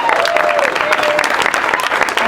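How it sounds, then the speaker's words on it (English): An audience at a startup weekend event gives the judges a round of applause, a dense burst of clapping with some cheering, steady throughout the short stretch. "How about a round of applause for them?"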